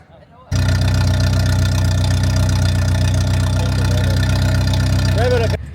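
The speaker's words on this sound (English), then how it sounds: "this is a stroked Windsor 427 cubic inch." A stroked 427 cubic inch Windsor V8 engine idles steadily with a deep, loud, lumpy rumble, running alone and unchanged throughout.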